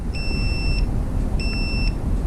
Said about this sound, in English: our continuity setting, so we'll hear the beep